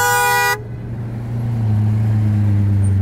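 A car in a wedding convoy sounds its horn in a loud held blast for half a second, then a close engine rumble and road noise carry on alone.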